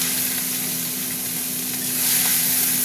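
Whole cumin seeds sizzling and crackling in hot oil in a pan, a close, steady frying hiss that swells slightly toward the end.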